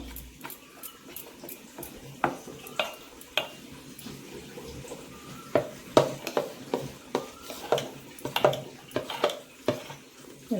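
Amboli batter with salt being whisked by hand in a bowl, a string of wet, sloshing beats in an uneven rhythm, close and moderately loud.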